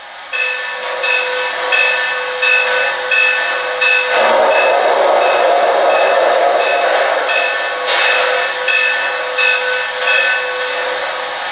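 Sound-effect bell of a Lionel Reading Consolidation model steam locomotive with TMCC and Legacy control, ringing in a steady repeating pattern over a sustained electronic tone, loud and close.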